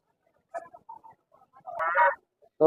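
Chickens cluck in short bursts close by at a busy poultry market, followed by a louder, longer squawk, with brief pauses of quiet between calls.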